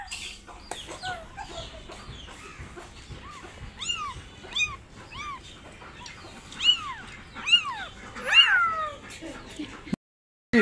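Stray kitten meows repeatedly in short, high, falling cries spaced a second or so apart, growing louder toward the end, with hen-like clucking and faint background noise mixed in before an abrupt cut.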